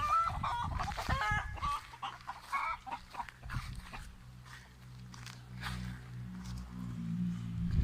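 Chickens cluck and squawk busily up close, with a rooster's call among them over a low background hum.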